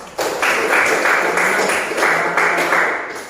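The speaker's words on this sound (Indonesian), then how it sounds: "Tepuk tangan untuk Maya" A classroom of students claps for a classmate named Maya, a steady wash of applause lasting several seconds at close, even loudness.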